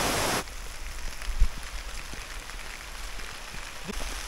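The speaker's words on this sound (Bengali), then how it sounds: "পাহাড়ের বৃষ্টি দেখার শখ মিটে গেল আজকে একদম মন ভরে" Steady heavy rain pours in the hills near a forest stream on the way to a waterfall, a dense even hiss with no voices.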